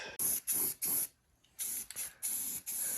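A spray gun paints over the weld on a car, sending out steady loud hissing bursts, three short pulses, a pause, then longer sprays close by.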